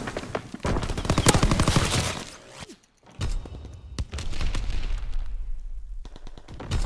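Artillery barrage in Call of Duty: WWII, loud booming impacts and dense rapid gunfire crackling in bursts, a brief lull near the middle before the heavy barrage resumes.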